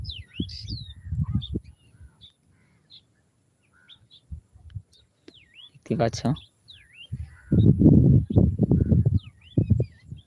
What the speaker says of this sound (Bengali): এই দেখো পাখি গেলা